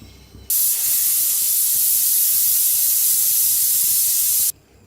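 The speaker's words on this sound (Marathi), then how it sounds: "आता कुकरची शिट्टी गेलेली आहे" A pressure cooker whistle blasts steam in one loud, steady hiss lasting about four seconds, then cuts off abruptly, while cooking soya pulao.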